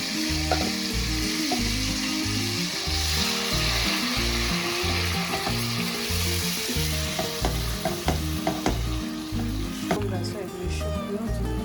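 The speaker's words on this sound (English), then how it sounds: "And then add more oil, then more onions, and then allow the onions to fry." Onions, tomatoes and pepper frying in palm oil for a chicken stew, a loud steady sizzle with stirring clinks toward the end, under a rhythmic low musical beat.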